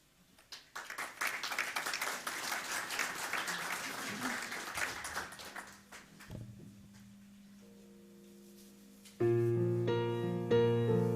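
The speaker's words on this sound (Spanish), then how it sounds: "Vamos a recibir, por favor, con fuertes aplausos" Church congregation clapping at a Sunday service, a dense, steady burst of applause over roughly six seconds that fades. Organ or keyboard chords follow and grow louder toward the end.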